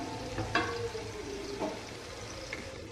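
Chilli chicken fries in a pan over a medium flame, a soft steady sizzle with a few light scraping stirs and clinks.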